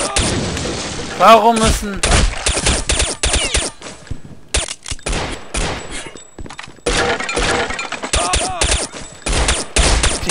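Rapid bursts of gunfire in Counter-Strike Condition Zero: Deleted Scenes, with repeated automatic volleys and single shots spread through the clip, loud and close, while someone speaks German over part of it.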